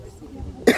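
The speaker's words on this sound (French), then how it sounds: "excusez-moi une petite toux" Someone speaking French gives a single short, sharp cough right after a pause in his talk.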